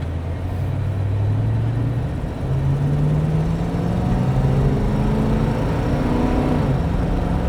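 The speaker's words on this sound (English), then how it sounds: "Now it shifted up into third, and it just floats down the road." A 1969 Ford XL Sportsroof with an automatic transmission accelerates on the road, its engine droning up in pitch, easing down at smooth upshifts and climbing again, steady and moderately loud from inside the car without talk.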